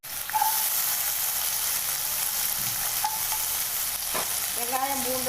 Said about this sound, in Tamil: வெங்காயம், பூண்டு எல்லாம் போட்டுக்காங்க. போட்டு நல்லா வதக்கிக்காங்க.